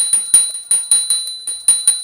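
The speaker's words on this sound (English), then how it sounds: "please ring the bell as you do so" Small ritual hand bell rung during a Hindu puja offering of the sacred bath, struck in quick repeated strikes, about nine bright metallic rings over two seconds, close and fairly loud with no talk.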